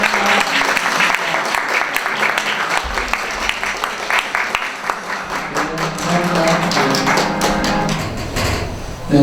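Audience applause fills a university centennial ceremony hall at Duksung Women's University, steady dense clapping running throughout with scattered thumps, close and fairly loud, with speech faintly mixed in.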